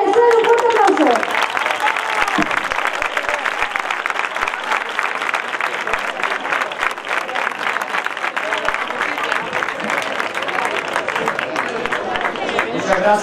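An audience bursts into loud, sustained applause, dense rapid clapping filling the space for the whole stretch with a murmur of voices mixed in.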